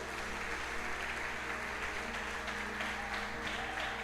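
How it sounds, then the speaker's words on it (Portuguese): Church congregation applauding during a service, a quiet, sustained wash of clapping with a steady low hum beneath and no clear voice. "Se você quer dar um aplauso ao Senhor"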